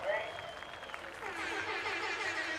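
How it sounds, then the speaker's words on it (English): A crowd at a BMX race at the European Championships breaks into warm applause, a steady wash of clapping heard at a distance and fairly faint, with an announcer's voice carrying over it. "Ladies and gentlemen, warm applause."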